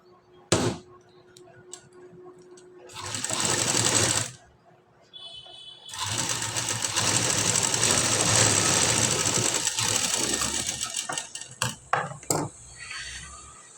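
A sewing machine stitches a blouse in two runs, a short burst and then a longer steady whirring stretch, with a few sharp clicks and taps between and after, close and clear.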